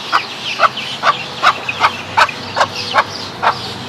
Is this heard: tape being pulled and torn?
no